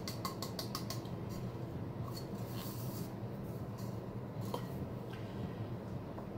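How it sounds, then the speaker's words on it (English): A spoon scraping and stirring ground flaxseed into yeast bread dough in a bowl, soft rubbing and clinking strokes that start as a quick run of ticks then settle into a faint, steady scrape. "We're going to stir that in."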